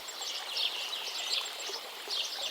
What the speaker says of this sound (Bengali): দূরে নানা রকম পাখির ডাক